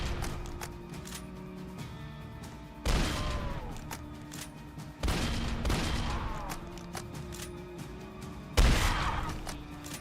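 Gunfire against zombies in a video game rings out in three sharp volleys of rapid shots, each loud burst separated by a few seconds of quieter background noise.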